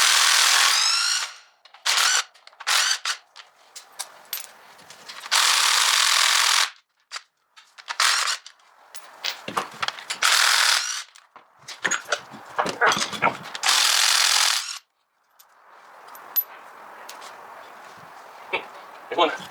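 Bolts being removed from a Miata rear differential with a power tool, loud bursts of drilling whirr broken by pauses, rattles and clanks, with someone talking between bursts.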